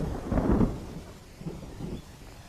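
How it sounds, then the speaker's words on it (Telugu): Low rumble of thunder with light rain beginning, a deep roll early on followed by fainter rumbles, fairly quiet overall. "అయ్య బాబాయ్ వర్షం వచ్చేలా ఉందండి"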